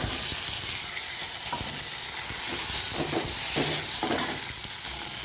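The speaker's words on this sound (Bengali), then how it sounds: "দেখো বন্ধুরা টমেটোটাও দিয়ে দিলাম" Chopped tomato drops into hot oil already tempered with dried red chillies, curry leaves and mustard seeds. It gives a steady, close, loud sizzle and hiss, with a few soft stirring knocks and no voices.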